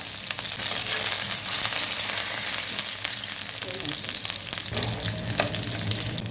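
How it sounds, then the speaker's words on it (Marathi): Chicken leg pieces frying on medium gas, a steady dense sizzle of hot oil with crackling spatter throughout, loud and close, shifting slightly partway as the pieces are turned. "मीडियम गॅसवर सर्व बाजूने क्रिस्पी होईपर्यंत फ्राय करून घेऊया."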